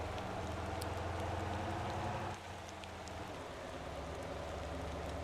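Steady rain in the Motor Town: Behind the Wheel driving game, a constant soft wash of rainfall with a low engine rumble underneath that shifts slightly partway through, no voices.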